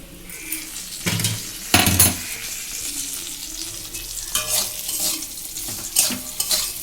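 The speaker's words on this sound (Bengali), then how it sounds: "আলুটা ভাজছি" Potatoes fry in a pan with a steady sizzle, broken by several louder bursts of stirring and scraping from a spatula at close range. No one speaks.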